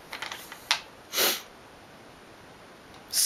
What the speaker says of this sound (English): Sniffles.